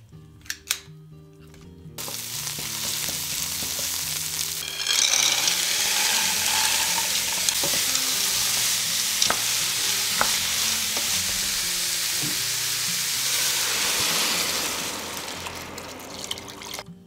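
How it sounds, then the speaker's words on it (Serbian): Meatballs for a pea and meatball stew frying in a pan, a steady close sizzle with stirring and scraping that swells after a few seconds and holds before fading, with a few sharp clicks. "Lepše ih je prethodno malo propržiti"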